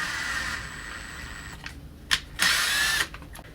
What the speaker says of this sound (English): take this number 832 screw and just use that to do a quick thread tap